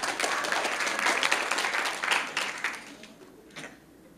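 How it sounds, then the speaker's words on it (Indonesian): A church congregation breaks into applause after a pastor's prompt, with dense mixed clapping at a steady level that gradually thins and fades toward the end. "Tepuk tangan dulu, semangat."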